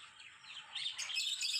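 Pet birds such as cockatiels and lovebirds at a pet shop chirp in a faint, quick jumble of high tweets that grows a little louder toward the end, with no voices.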